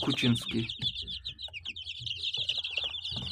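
Chicks peep continuously in rapid, high-pitched chirps, close by, with a few lower clucks mixed in.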